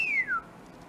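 A single person whistles one falling note, a bright tone sliding downward over about half a second, clear and fairly near against a quiet indoor background, then silence.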